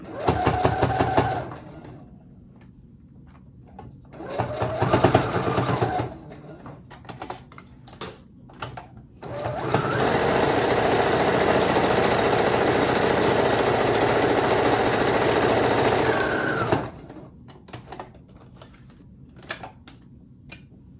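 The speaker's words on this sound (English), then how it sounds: "And then I just hold the pleat with my fingers and slowly sew right over it." A sewing machine stitching over a pleat on a fabric face mask, whirring in short bursts and then a long steady run, close and loud, with quiet pauses between.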